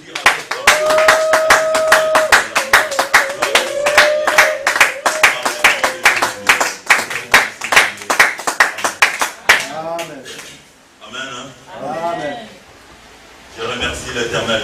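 A Sunday church congregation claps in fast, regular rhythm for about ten seconds, with voices calling out over it, then the clapping stops and spoken praise continues alone.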